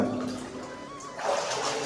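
Water runs and splashes through a passage at the Bhukailash Shiva temple in Tandoor, a close, rushing flow that swells louder partway through.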